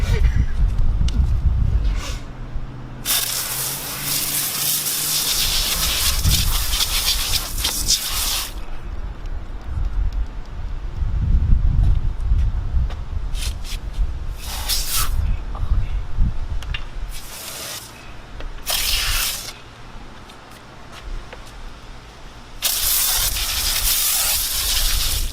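A spray hisses over a Honda CR-V wheel and brake rotor in long loud bursts separated by pauses, close by, with a person talking between bursts.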